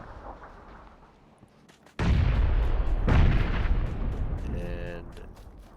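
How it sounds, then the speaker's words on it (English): A grenade goes off in a competitive online shooter match, a sudden loud boom that rumbles and decays over a few seconds, followed by a second burst and fading echoes. "Crimson gonna try and throw a nade"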